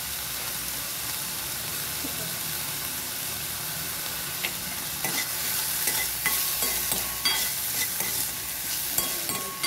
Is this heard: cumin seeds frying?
yes